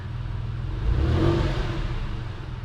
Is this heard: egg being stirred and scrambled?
no